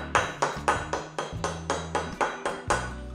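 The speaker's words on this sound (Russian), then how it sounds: "Очищается он довольно-таки легко с помощью обычного молотка." An ordinary hammer strikes the electrode of a 12-volt nichrome wire cutter to clean it, giving about ten sharp, evenly spaced metallic taps in a steady rhythm, close and alone.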